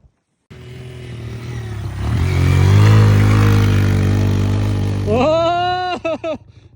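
A motorcycle engine starts up nearby and drones steadily as it rides downhill, then revs sharply in rising bursts before cutting off with a few stuttering pops at the end.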